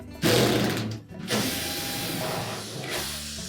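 A tool backs quarter-inch hex head screws out of a Whirlpool dryer panel, giving a mechanical whirring burst, a short pause, then a longer steady whir close by.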